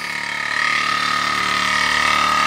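The 49cc gas engine of a toy Raminator monster truck runs outdoors in cold weather with a rich mixture, holding a steady buzzing drone that rises slightly in the first half-second, then stays loud and even.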